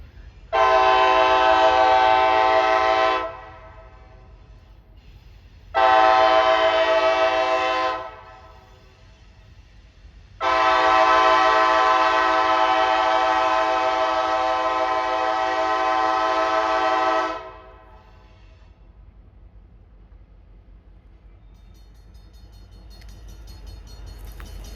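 A Norfolk Southern freight train, NSP92, shoving back through a junction sounds its horn in three loud blasts, two short ones then a long held one, with low rail rumble underneath and no talk.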